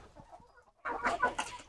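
Backyard chickens cluck while pecking at freshly cut grass on a small poultry farm, a quiet first half giving way to a busier burst of close, overlapping clucks.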